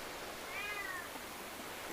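A single short cat meow, faint under steady broadband background hiss, with no voices.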